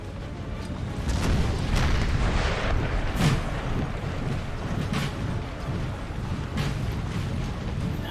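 Cannonball artillery fire rumbles through a Napoleon Total War battle, with dull, heavy booms rolling over a dense, continuous battlefield din and no talk.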